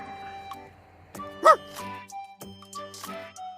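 A dog barks a few short yips, one sharp bark standing out, over soft tonal background sounds.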